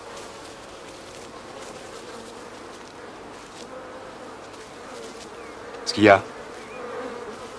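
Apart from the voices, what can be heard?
agitated hornets buzzing around their nest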